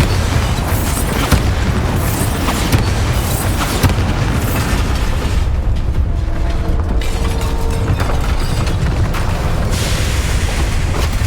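A Bombarda spell explosion in Hogwarts Legacy: a loud, sustained blast with rumbling booms and crackling debris that stays dense and forceful throughout.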